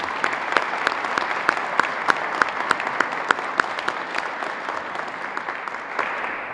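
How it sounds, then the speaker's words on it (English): A crowd at a grant awards ceremony applauds steadily and evenly throughout, with sharp individual claps standing out above the wash. "round of applause first"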